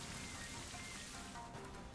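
Rain Dance move effect in Pokemon Scarlet and Violet, a brief steady wash of falling rain at low volume throughout.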